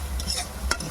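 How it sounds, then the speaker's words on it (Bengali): Chopped onion and green chilli being stirred into spices frying in oil, a brief close scrape of a spoon over a steady sizzle. "পেঁয়াজ আর কাঁচা লঙ্কা কেটে নিয়েছি, এগুলো মিক্স করে দেবো"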